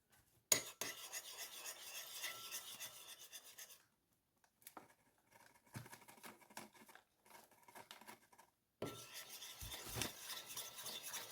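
A spoon scraping and rasping in a bowl as lemon juice and icing sugar are stirred into a thick white icing; close, steady scratchy strokes in several bursts separated by short pauses.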